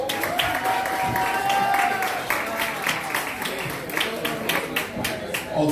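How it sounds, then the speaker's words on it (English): An audience at a Glasgow Black History Month event gives a round of applause, scattered, uneven clapping that continues over a faint tonal hum and some crowd noise throughout. "Please give him a round of applause."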